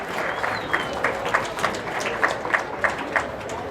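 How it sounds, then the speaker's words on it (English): A crowd at a county fair livestock show applauds the exhibitors, a moderate wash of clapping with distinct claps standing out over general crowd murmur, heard from within the audience. "let's have another round of applause for our exhibitors today"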